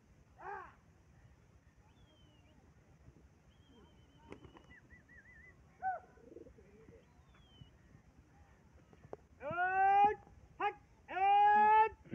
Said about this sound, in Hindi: ये सारे कबूतर हैं